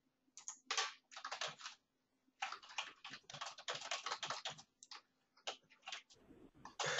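Computer keyboard typing in close bursts of rapid clicking keystrokes separated by short pauses, quiet and alone over a faint hum.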